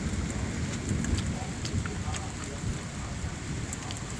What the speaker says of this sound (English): We're getting a thunderstorm.